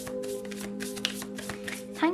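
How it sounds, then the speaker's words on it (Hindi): Tarot cards are shuffled close up in a quiet room, a soft rapid riffling with light taps and a few brief bursts, while a steady hum runs underneath and a voice speaks. "ठीक है, तो चलिए शफल कर लेते हैं।"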